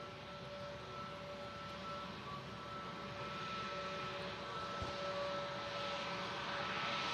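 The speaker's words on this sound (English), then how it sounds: "Using the rapid exit taxiway to leave 23 right. This Turkish Airlines A321neo" A Turkish Airlines A321neo rolls off runway 23R along a rapid exit taxiway at Manchester Airport after landing, its engines a faint, steady distant roar with a thin whine on top, continuous and slowly swelling.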